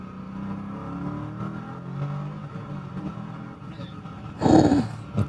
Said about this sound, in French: il y a les voitures qui arrivent